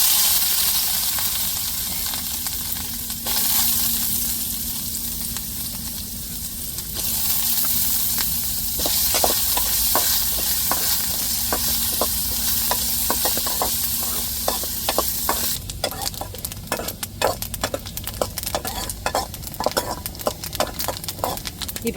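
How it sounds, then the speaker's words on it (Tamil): Chopped coconut fries in hot ghee with a continuous hissing sizzle, while a spoon steadily scrapes and stirs. A burst of brisk stirring near the end makes a dense rattle over the sizzle. "நெய்யிலையோ இல்லை தேங்காய் எண்ணெயிலையோ நல்லா சிவப்பு நிறமாக வறுத்து நம்ம எடுத்து வச்சுக்கிடுவோம்"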